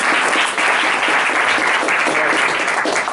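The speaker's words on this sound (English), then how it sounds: "I want to really give them a round of applause for hosting us." A room of meetup attendees gives a round of applause for the hosting venue, dense steady clapping that stays loud for the whole stretch.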